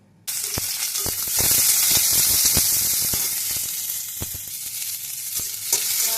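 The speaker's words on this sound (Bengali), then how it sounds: "পনির ভেজে নিয়েছি, এবার পেঁয়াজ দিয়ে দেবো।" Onions hit hot oil in a pan after paneer has been fried, bursting into a loud, close, steady hiss that continues over several seconds, broken by sharp scraping clicks of a spatula stirring against the pan.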